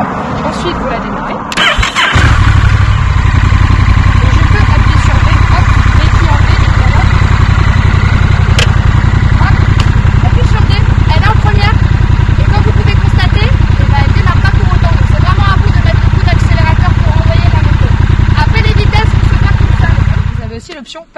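A Honda CMX1100 Rebel motorcycle with DCT automatic gearbox cranks and fires up in neutral, then settles into a loud, steady idle close by for the rest of the clip.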